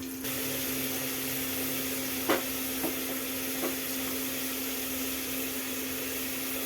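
Cut vegetables sizzling and frying steadily in a pan for a Tamil brinjal, ridge gourd and tomato kadayal, a constant hiss under a steady tonal hum, with a few faint stirring clicks near the middle.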